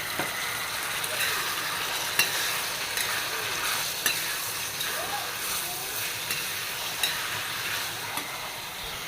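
Chopped tomatoes frying with ginger garlic paste in a pan make a steady, close sizzle and crackle, with scattered spoon stirs and clicks throughout.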